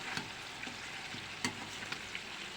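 Chicken seasoned with salt and pepper sizzles steadily in a hot pan, a continuous fine crackle with a few sharper pops and spatters, close and moderately quiet, with no voices.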